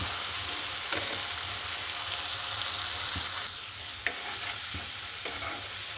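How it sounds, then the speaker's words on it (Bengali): Masala is sautéed and stirred in a pan for katla fish bhuna, giving a constant low frying sizzle broken by a few faint scraping knocks of the spoon, with no one speaking. "মশলাটা আমি কষিয়ে নিচ্ছি যেন মশলার গন্ধটা না থাকে"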